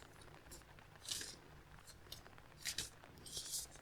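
Oracle cards are shuffled and cut by hand, giving soft papery swishes and crisp riffling bursts that come in a few separate clusters, close and quiet with no talk.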